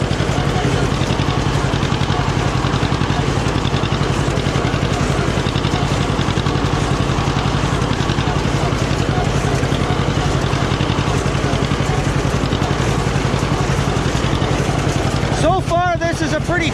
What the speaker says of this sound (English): two-cylinder tractor running a baler is one of the best sounds man has ever invented.